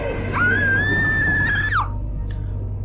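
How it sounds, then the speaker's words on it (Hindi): A woman lets out a single loud, sustained scream of fright lasting over a second, rising sharply and then cutting off, over a low steady background hum with no speech. "वो बहुत जोर से चिल्लाई।"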